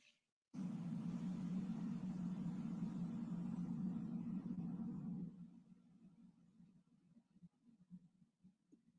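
Traffic engine noise: a deep, steady rumble of car engines starts abruptly, holds loud for several seconds, then drops to a quieter, uneven low drone.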